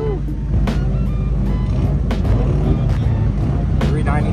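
A right-hand-drive car with a 392 engine idles with a deep, lumpy burble at a large Texas cars and coffee show, nearby with sharp clicks and background chatter.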